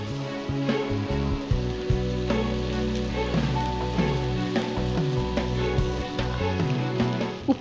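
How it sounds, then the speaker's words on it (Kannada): Cooked rice tumbles into a sizzling tempering in a pan and gets stirred, a steady close crackle with scattered scraping clicks and a sharp knock at the end, no talking. "ಈಗ ಇದಕ್ಕೆ ಉದುರಾಗಿರೋ ಅನ್ನನ ಹಾಕ್ತಾ ಇದ್ದೀನಿ"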